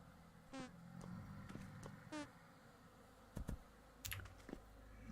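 Bees stinging a character in the Vintage Story survival game, heard as a few short, buzzy beeps in quick, irregular bursts over a low, quiet game ambience, with occasional clicks and thumps.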